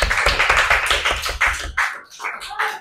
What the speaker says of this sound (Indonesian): Oke, tepuk tangan untuk Sisil dan Alia